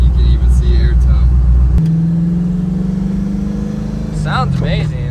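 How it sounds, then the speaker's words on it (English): A Porsche 914 with an LS3 V8 and custom exhaust rumbles steadily with a deep exhaust note, shifting pitch partway through, while voices talk over it. "Yeah, the car sounds great."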